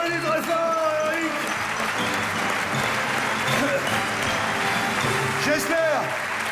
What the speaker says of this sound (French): Qu'on applaudit très fort, Eric.